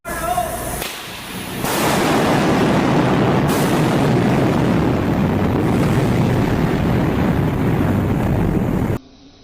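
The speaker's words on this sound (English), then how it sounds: "A shockwave from an explosion inside the tunnel appeared without warning." An explosion shockwave tearing through a tunnel, a sudden loud roaring blast of wind-like noise that holds steady for several seconds before cutting off abruptly.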